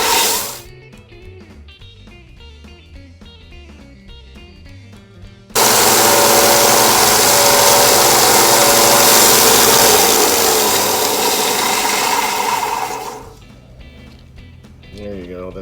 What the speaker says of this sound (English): This is the rivet again, 1-inch belt sander.